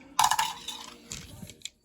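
Several dice rattle and clatter onto a hard surface during a board wargame, a quick burst of sharp clicks that settles into a few scattered taps, fairly close.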